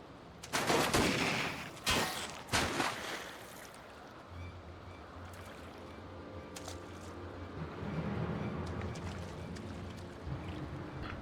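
Video game gunfire in Final Fantasy XIV: a few sharp, loud shots in quick succession near the start, then a low rumbling ambience with faint scattered crackles.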